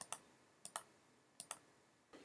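Mouse clicks on mode icons in a software toolbar, three quick double-clicks spaced evenly apart, crisp and faint with near-silence between them.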